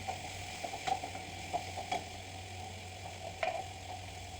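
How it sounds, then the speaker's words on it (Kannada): Bitter gourd frying with tomato and salt in a pan, a faint low sizzle broken by a few soft scrapes and taps from stirring, quiet and without voices. "ಸೊ ಇವಾಗ ಹಾಗಲಕಾಯಿನ ಹಾಕಿ ಎಲ್ಲ ಮಿಕ್ಸ್ ಮಾಡ್ತಾಯಿದ್ದೀನಿ ನಾನು"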